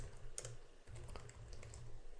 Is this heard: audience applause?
no